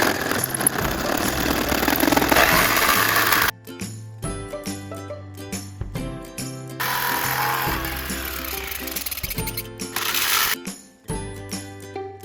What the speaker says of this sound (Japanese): ジグソーに金属の板が切れる刃を取り付けました。